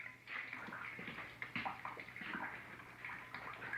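Fluid drains from a car differential in a garage, a faint continuous trickling and splashing stream that runs steadily with no one talking.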